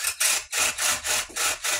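Paddle drill bit boring through a white oak axe handle, heard up close as a steady series of about six rough, scraping strokes in an even rhythm with brief gaps between them.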